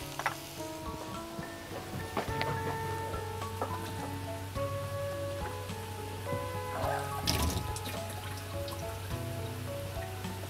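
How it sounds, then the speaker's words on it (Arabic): Water is poured into a cooking pan to dissolve a stock cube for a meat dish in cream and lemon sauce, a soft, steady trickling and dripping that stays fairly faint, with no voices. "هحط شوية مية."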